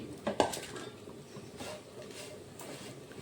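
Fried jackfruit pieces lifted from a pan, with a couple of close metal scrapes and clinks of a utensil against the pan early on, then quieter faint scraping over a low kitchen background.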